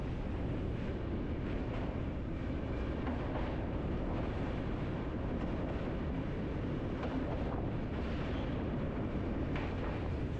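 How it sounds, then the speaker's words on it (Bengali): A moving train runs through eastern Rajasthan, just across the Madhya Pradesh border, with a steady, loud, unbroken rumble and rattle that continues without any voices. "এই মুহূর্তে আমাদের ট্রেনটি মধ্যপ্রদেশের সীমানা অতিক্রম করে চলেছে রাজস্থান রাজ্যের পূর্ব প্রান্তের উপর দিয়ে"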